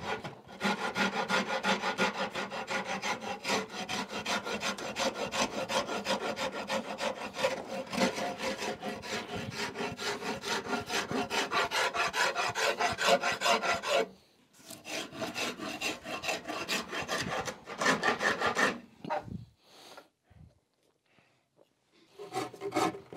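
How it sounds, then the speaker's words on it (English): A farrier's rasp and a Nicholson half-round rasp scrape across a hickory bow stave in quick, rhythmic rubbing strokes, close and steady for a long stretch, then pausing and resuming in shorter bursts. "Got two main big rasps that I like to use. This is my farrier's rasp."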